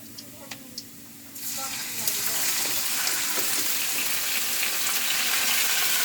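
Garlic and onion hit a hot pan and burst into a loud, steady sizzle that starts abruptly after a few quiet clicks and keeps going, with faint voices in the background.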